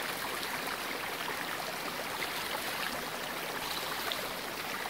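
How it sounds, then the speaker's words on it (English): A mountain creek on a Colorado hiking trail flows steadily, a constant broad rushing and splashing of water, close and even, with no voices. "Made it back to that creek again."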